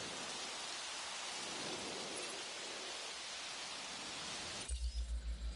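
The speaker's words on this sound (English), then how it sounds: "And it's raining." Steady rain hisses evenly in the Jurassic World video game, a soft constant wash of noise with no voices, ending in a few low thumping pulses.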